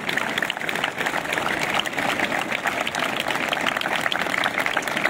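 Outdoor crowd at the inauguration of a town piazza in Alba, applauding a sculptor and his sculpture: a steady, dense wash of clapping holding at full strength throughout.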